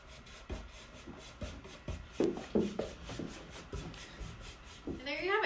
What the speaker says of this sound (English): you're going to just very gently massage the wax into the piece